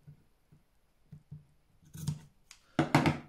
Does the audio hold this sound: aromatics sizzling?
no